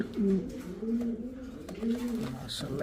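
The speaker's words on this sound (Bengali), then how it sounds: "দর্শক যে ডাকটা কিন্তু রাখি কবুতরগুলো ভাই ডাকের জন্য আর গলার জন্য" A breeding pair of pigeons give loud, repeated throaty coos in a close, rolling series, with soft background noise around them.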